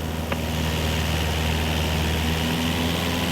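Steady full-power drone of a Cessna 172 propeller engine in Microsoft Flight Simulator 2024, loud and unbroken with a low buzzing hum, heard alone.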